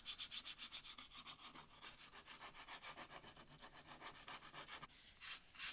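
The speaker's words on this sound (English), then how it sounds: "Then I gave a sanding to the handle to make it nice and smooth." Rhythmic rasping strokes of abrasive against a wooden strop handle, steady and close, repeating back and forth for several seconds with a brief pause near the end.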